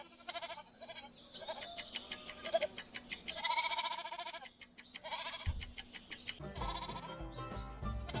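Goat bleating on a farm, several wavering calls one after another, fairly close and clear, with brief pauses between cries and no talk.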